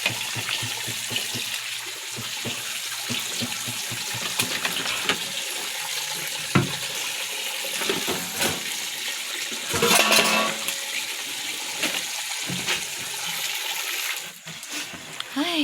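Water pouring and splashing steadily into a pets' urine area, a continuous rushing splatter close by with small knocks and clatters throughout and a brief louder gush partway through.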